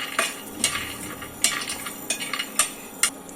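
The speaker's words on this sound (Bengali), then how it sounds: "এগুলো 5 মিনিটের মতো হালকা ভেজে নিব শুকনো তাওয়ার মধ্যেই।" Almonds dry-roasting on a hot dry tawa, stirred with a utensil: a series of crisp scraping clinks and rattles at irregular intervals, close and fairly clear, with no talk.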